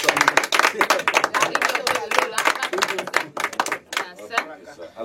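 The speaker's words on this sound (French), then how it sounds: "on peut applaudir" Audience applause in a French-language show, dense clapping from a crowd that rises and falls over several seconds, with voices mixed into the clatter.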